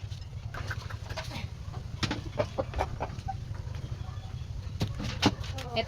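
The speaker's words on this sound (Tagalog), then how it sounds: "Marami kami dito manok guys." Domestic chickens on a Filipino backyard farm cluck repeatedly during feeding, with short scattered calls over a steady low background and a person speaking nearby.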